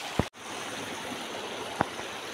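A river stream on a farm flows with a steady soft rushing wash, moderately close, broken by two brief knocks and a momentary dropout.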